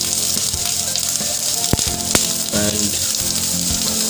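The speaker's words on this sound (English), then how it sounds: "I'm adding garlic to it now. I'm adding the green chili." Garlic and green chili fry in hot oil for chicken kalimirch, giving a loud, close, continuous sizzle with a few sharp pops and faint clinks, while a brief spoken word slips in.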